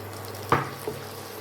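Ridge gourd being stirred and fried in a pan: a quiet background sizzle, broken by one sharp spatula scrape and then a softer second knock.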